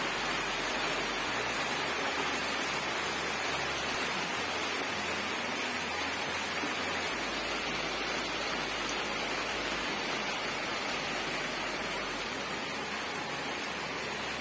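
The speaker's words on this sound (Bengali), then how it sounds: "কি সুন্দর বৃষ্টি পড়ছে" Rain pours down steadily outside behind a shop, a dense unbroken hiss of falling water and drops on surfaces, even and fairly loud throughout with no voices.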